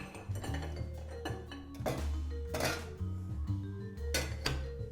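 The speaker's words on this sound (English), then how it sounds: "Throw some ice." Ice cubes thrown into a metal cocktail tin while mixing a Gold Rush cocktail: a few bright clinks and rattles against the metal, fairly close, with no talking.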